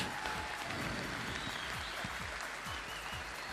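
A crowd at the Golden Shears world machine shearing final applauds the finalists, with thick, continuous clapping across a large venue and low rumbles underneath throughout.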